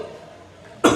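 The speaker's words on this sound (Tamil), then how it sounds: "பக்கத்தில் உள்ள ஒருத்தர் லேசா இருமிட்டா" A single light human cough bursts out near the end, short and fairly close, after a stretch of quiet room tone.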